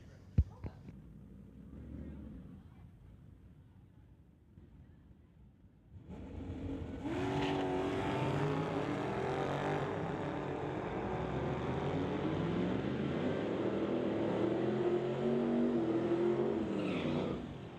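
At a street-legal drag race, a 2006 SRT faces a 1969 Acadian; after quiet crowd murmur, engines roar to life and hold a loud, sustained revving drone with shifting pitch, while an announcer talks over the start.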